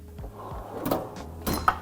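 A drawer stocked with mountain bike suspension coil springs slides open nearby, with a couple of dull knocks and a rattling clatter of metal as the springs shift.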